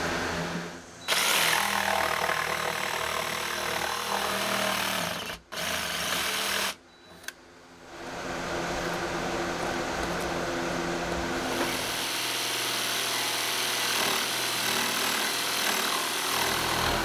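A new jigsaw cuts through a wooden board for a kitchen upgrade in a shed-to-cabin build, giving a steady, loud buzzing rasp that pauses briefly twice before running on continuously.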